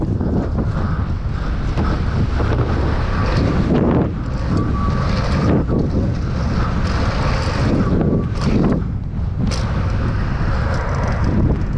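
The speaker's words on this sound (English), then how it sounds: "Bit windy today, but should be all right." Loud, gusty wind buffets the microphone continuously on a BMX track in Nantes, France, roaring and swelling in waves with a rough, blustery rush.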